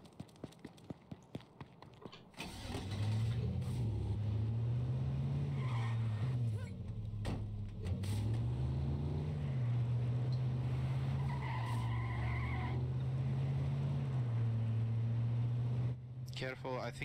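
Car in the battle-royale video game H1Z1 driving with a steady engine drone that rises and falls, tires skidding and squealing along the way, after a few sharp clicks at the start.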